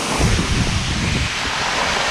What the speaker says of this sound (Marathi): हा आहे मागे तो वॉटरफॉल